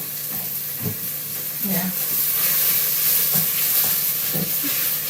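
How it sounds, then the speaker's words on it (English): Tomatoes and onions fry in a pan, a steady hiss and sizzle with a few soft stirring knocks and scrapes, and a brief spoken word in the middle. "I've cooked a few of this tomato, 2 of it, and I'm frying it in here with the onions"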